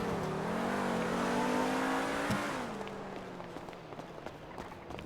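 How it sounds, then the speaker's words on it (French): A car in a French roleplay video game drives past on a road, its engine tone loud and rising then falling away, with a brief thump midway and quieter ambient noise after. "Regardez, une voiture qui passe."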